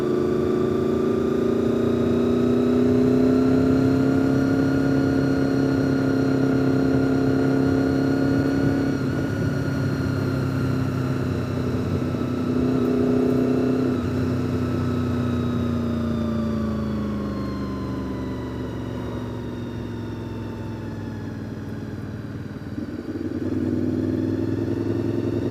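Vehicle engines drone continuously and loudly, a rising and falling tone as cars pass close by one after another, with no talk.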